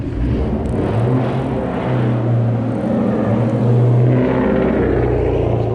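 Loud, steady exhaust drone from a 2016 Mustang GT Performance Pack, a deep rumbling engine heard up close and continuously with slight swells in level.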